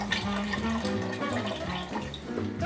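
Water pours steadily into a pot of pasta fazool soup that already holds fat-free chicken broth, a continuous close splashing wash with no talk over it.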